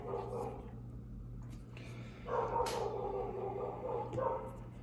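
Dogs bark in a few short bursts, one cluster in the middle and another near the end, over a steady low hum.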